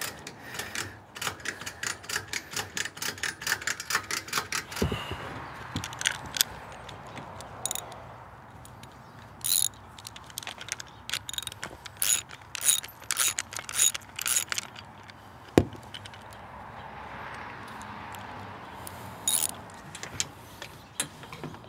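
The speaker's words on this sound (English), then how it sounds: "give it a ratchet" A ratchet strap is cranked tight on a Sprinter van roof rack, with runs of quick sharp clicks in bursts and pauses between them, plus scattered knocks and handling noise, close by with no speech.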